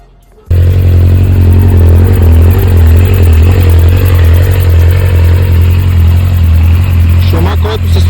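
A Triumph 600 TT motorcycle engine starts up and runs loudly and steadily at close range on a test ride, a continuous deep rumble with a faint rattle, plus a brief voice near the end.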